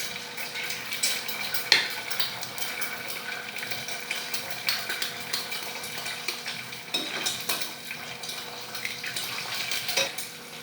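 Four eggs frying in an oily pan with cumin, a steady close sizzle broken by occasional spoon scrapes and clinks against the pan, with no voices.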